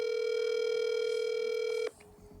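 A landline telephone's steady dial tone hums loudly after the call is hung up, holding unbroken for about two seconds before cutting off abruptly into quiet room noise.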